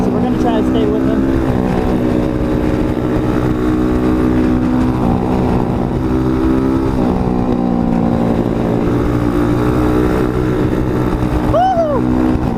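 Engine of an Apollo RFZ Chinese dirt bike from Amazon, ridden with worn tires and weak brakes, droning steadily and loud throughout with continuous wind and road noise, rising briefly near the end, a whoop of voice heard over it.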